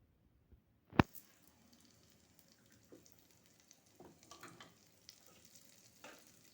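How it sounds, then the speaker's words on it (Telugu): Curry leaves dropped into a little hot oil in a pan give a faint crackle and sizzle, opening with one loud sharp hit and followed by sparse soft pops and spatters, quiet and close. "కొద్దిగా ఆయిల్ వేసుకొని ఇందులో మనం కరివేపాకు వేసుకుందాం"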